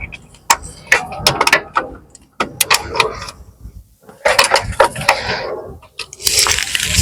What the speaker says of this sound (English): my ratchet with the 15mm socket. Okay, now that's fully tight.